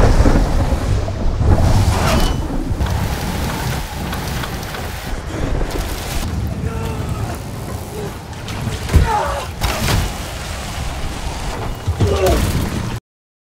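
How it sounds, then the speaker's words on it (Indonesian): A sudden storm batters a ship, heavy rain and wind roaring continuously with deep rumbling thunder, loud and close, and a voice speaking underneath. "malah menjadi jauh lebih buruk dengan datangnya badai yang tak terduga"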